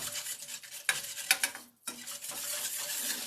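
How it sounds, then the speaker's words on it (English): Lemon filling for lemon meringue cupcakes is stirred in a pot, giving soft, rhythmic scraping and swishing strokes close by, with a brief pause partway through. "So we are stirring."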